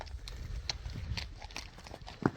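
A young horse, a foal newly brought from Abakan for sale, walks with soft, uneven hoof clip-clops over steady background noise, ending in one sharper knock.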